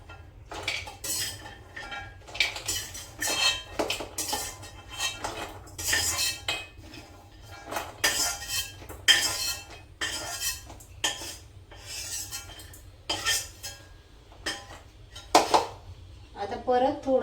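Ghee-roasted dry fruits are scraped with a metal spoon into a vessel, giving repeated clinks and scrapes of metal on metal in an irregular rhythm, close and fairly loud, with someone talking between them.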